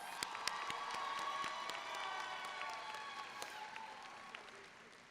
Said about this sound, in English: please give Zig another huge round of applause.